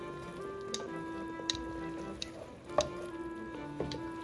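Red wine aged in a bourbon barrel reduces in a pan for beef stroganoff, a faint, soft simmer with scattered small pops and crackles close by over a low background hum.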